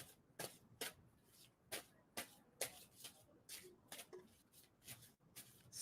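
Tarot cards are shuffled by hand in quick, close, quiet bursts of riffling and sliding, a dozen or so crisp strokes at an uneven rhythm.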